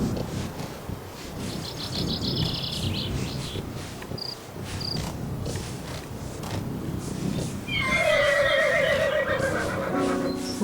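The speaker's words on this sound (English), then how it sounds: "There are some horses up here" Horses whinny in Horse Tales: Emerald Valley, one higher call early on and a louder, longer neigh later, set against a steady chorus of crickets and outdoor ambience.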